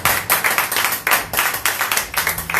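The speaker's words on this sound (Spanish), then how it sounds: "Un aplauso para el Señor." In church, a small congregation claps in quick, sharp bursts for the Lord, a close, rhythmic patter of hands that rises and falls in short waves.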